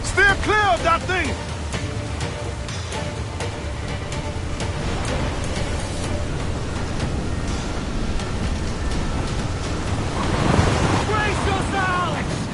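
Water spout at sea in Assassin's Creed 4 Black Flag, roaring wind and crashing waves around a sailing ship, loud and continuous with surging gusts, under shouted voices.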